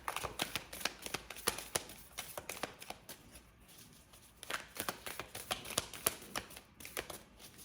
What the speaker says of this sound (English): We'll do 3 more shuffles and see if one comes out.